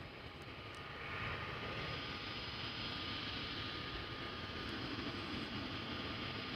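Aer Lingus Airbus A320neo approaching at Amsterdam Schiphol, a faint, distant jet rush that rises after the first second and then holds as a steady broadband roar.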